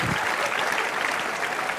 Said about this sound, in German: Das ist schon mal dein Applaus.